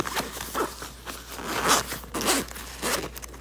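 The zipper of a denim Vera Bradley bag with a fabric zipper pull being worked open in short strokes, a series of close, quiet raspy zips with small pauses between them.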